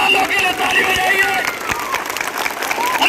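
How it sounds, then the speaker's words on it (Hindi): Audience applause for soldiers at a school Republic Day event in Uttar Pradesh: a crowd claps steadily throughout, fairly loud and sustained, with voices and murmur mixed in. "ताली बजाइए उन लोगों के लिए, हमारा जवान लोग के लिए ताली बजाइए"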